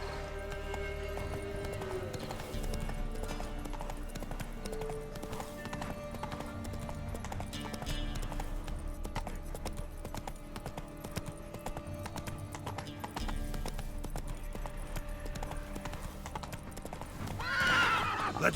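Roach, the horse in The Witcher 3, gallops with steady rapid clip-clop hoofbeats and occasional neighs, layered over a continuous game music score, with a brief louder swell near the end.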